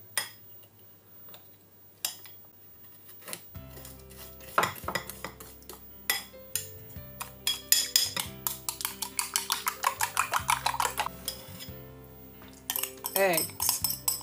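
Utensil scraping and clinking against a bowl while eggs are mixed into unripe plantain moi moi batter, a rapid series of close, steady knocks over soft background music.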